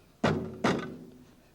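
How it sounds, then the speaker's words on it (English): Stopper pushed into a glass flask during a physics demonstration on atmospheric pressure, two dull close thunks in quick succession, fading in a short ring. "I am going to stopper this up."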